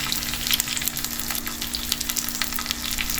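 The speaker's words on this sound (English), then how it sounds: "Saute it a little, keep sauteing" Green chilies and curry leaves sautéing in a pan, a lively crackling sizzle with scattered pops and a low steady hum beneath, constant throughout.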